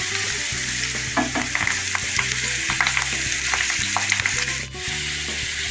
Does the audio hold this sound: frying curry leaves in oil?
yes